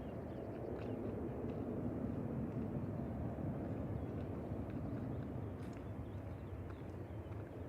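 Eastern Airways ATR 72-600 turboprop arriving from Guernsey and landing at Manchester Airport, heard as a steady, broad roar of engine and air noise that holds at an even level throughout, with no talk over it.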